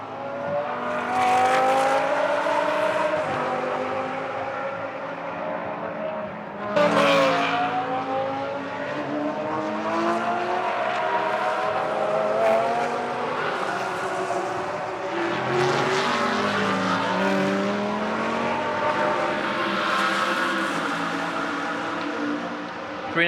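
GT race cars scream down into turn 1 one after another during free practice in Moscow, loud high engine notes sweeping and downshifting with overlapping passes and no voices.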